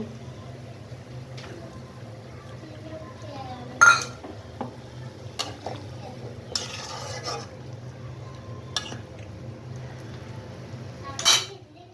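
Eggs go into a simmering eggplant curry in a pan on the stove, heard as scattered metallic clinks and scrapes of a utensil against the pan over a low, steady background hum, with a few sharper knocks.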